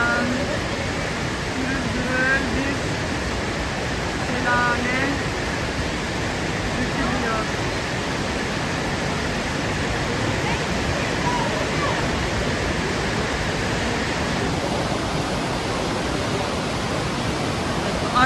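The Saitabat waterfall in Bursa pours between two rocks into a pool, a steady, loud, broadband rushing roar that runs unbroken throughout, with faint voices barely audible under the noise of the water.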